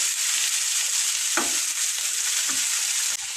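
Cabbage frying in a pan, a steady bright sizzle with a couple of brief scraping knocks from a spoon stirring it.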